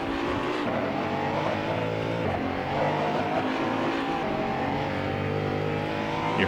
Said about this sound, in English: You heard those 4th gear chirps there.